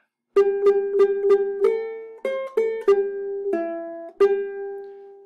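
A plucked ukulele plays a short, bright melody of single notes, some quick pairs and some held, alone without any voice.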